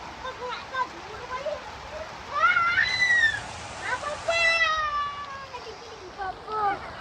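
Steady rain hisses in the background while high-pitched voices call out and talk over it.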